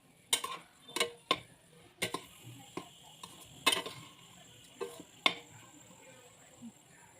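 Chicken fried rice stirred and tossed in a pan, with a series of sharp utensil scrapes and clinks against the metal at an irregular pace, fairly close and moderately quiet, over a faint background.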